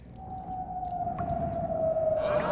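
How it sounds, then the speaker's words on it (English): Wind moaning through a cave in a cartoon scene, a steady eerie tonal whistle that slowly falls in pitch over a low rumbling background, without any voices. "In certain areas of the cave, the wind actually blows through, causing a sound you can hear."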